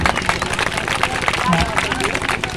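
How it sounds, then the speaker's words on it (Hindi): An audience at a 14 April stage gathering claps steadily, a busy patter of many hands mixed with crowd babble and voices throughout the short stretch. "आप ताली बजाइए"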